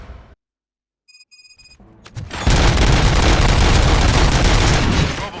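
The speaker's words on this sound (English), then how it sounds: "Gunshots? What's going on?" Gunfire in the video game RoboCop: Rogue City: after a brief electronic beeping and near silence, a loud, dense burst of rapid shots and booms erupts and sustains to the end.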